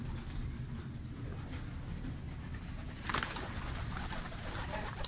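German white pigeons coo softly and steadily at close range over a constant background hiss, with a brief burst of wing flapping partway through.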